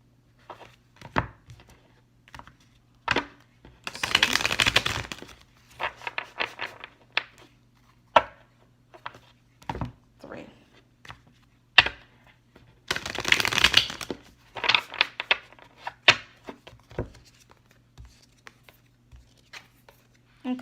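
Tarot cards are shuffled by hand in two distinct riffle bursts, each a few seconds of rapid fluttering, separated by scattered taps and card handling in a quiet room.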